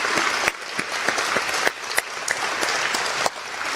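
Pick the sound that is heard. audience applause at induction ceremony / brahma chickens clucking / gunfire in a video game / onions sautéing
audience applause at induction ceremony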